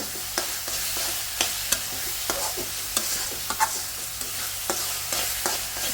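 Spice masala is stirred and fried in a pan, a constant sizzle punctuated by repeated spatula scrapes at a regular, unhurried rhythm, close and fairly loud.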